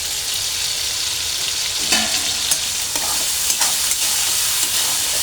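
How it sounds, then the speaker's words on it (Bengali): Prawns seasoned with turmeric and salt fry in hot oil, a steady close sizzle with brief crackles and a few scraping stirs, and no voices. "তো চিংড়িগুলো এখন তেলের মধ্যে দিয়ে দেব, একটু ভেজে উঠিয়ে নেব"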